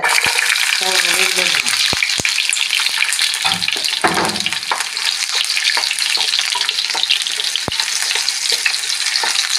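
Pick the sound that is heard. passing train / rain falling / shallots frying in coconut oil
shallots frying in coconut oil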